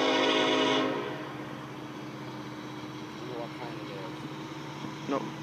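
A Norfolk Southern freight train in Crescent Springs, Kentucky sounds a loud horn blast that cuts off after about a second, leaving a low rumble as it passes, with people talking nearby.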